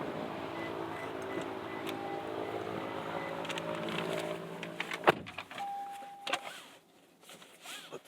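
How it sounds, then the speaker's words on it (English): Electric windows on a 2024 Toyota Corolla Cross Hybrid S whir as they travel down and back up: a steady motor hum for several seconds, a sharp stop, then a shorter whine. Heard from inside the cabin. "power down and up windows"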